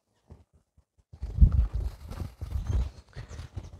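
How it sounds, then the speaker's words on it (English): A garden rake spreads cow manure over a no-dig garden bed in Trinidad, giving a few faint taps and then a run of rough, rhythmic scraping and thudding strokes close by. "Same thing, using the rake to spread it around."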